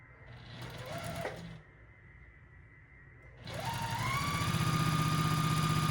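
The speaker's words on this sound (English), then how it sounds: "I like the sound of sewing machines." A sewing machine runs in two bursts with a steady mechanical hum and rapid stitching rhythm, pausing briefly in between, close and fairly loud.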